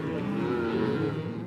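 Cattle moo in a long, low, drawn-out call at a ranch after a corral job is finished, a single sustained bellow at moderate distance with a faint engine hum beneath.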